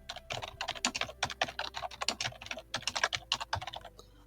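Rapid typing on a computer keyboard, a quick irregular run of crisp, close clicks and clacks lasting a few seconds, heard alone with no talking.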